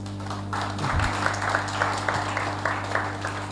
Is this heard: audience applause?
yes